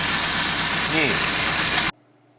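A loud engine runs steadily at idle for about two seconds, then cuts off abruptly.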